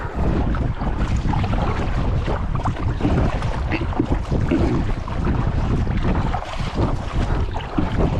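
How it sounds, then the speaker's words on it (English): Strong wind gusts roar across open water on the Chesapeake Bay near a boat launch, a steady, loud rush buffeting the microphone with no speech. "the wind kicked up on us already"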